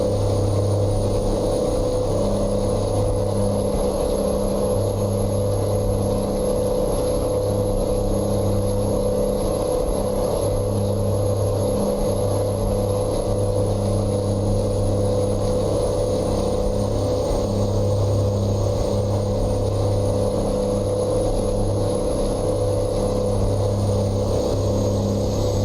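A W900 Highway Killer truck engine drones steadily in American Truck Simulator, a continuous loud low hum with a faint high whine that rises and falls slightly, heard alone for the whole stretch.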